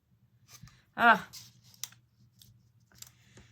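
Scissors cutting material give small, sharp snips at close range, scattered among quiet clicks, while a person speaks briefly over them.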